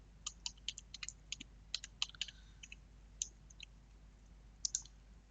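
Quick bursts of crisp keyboard clicks, typing in short irregular runs with brief pauses, close and fairly quiet.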